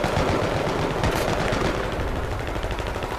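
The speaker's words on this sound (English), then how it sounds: "I'm just shooting randomly right now." Automatic weapon fire in the video game Battlefield 3 rattles in rapid continuous bursts, loud and close, with booming shots and explosions layered through the mix and no one talking.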